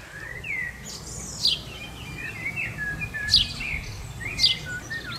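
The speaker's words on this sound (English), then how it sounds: "Listen to the sound of the birds." Birds singing along a canal walk in early summer in Devon, with repeated clear chirps and short song phrases over a soft, steady outdoor background.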